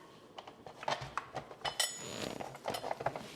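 A spatula being picked up while making sweet potato nice cream, giving a series of small, light metallic clinks and taps of utensils, faint and close, with no voices.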